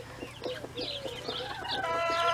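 Chickens cluck and murmur close by in a fenced enclosure, a busy overlapping chatter of short calls with a steady low hum underneath and one rising squawk near the end, no talking.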